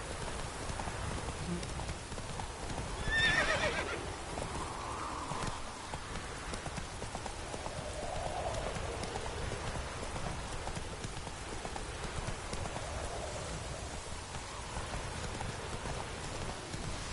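Horse hooves clip-clop steadily at a gallop through falling rain in The Witcher 3 game world, a continuous rhythmic beat over a dense, even rain hiss with a brief louder swell near the start.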